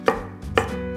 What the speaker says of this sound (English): just chop it up into pieces so that it's the same size as the rest of the onion cuts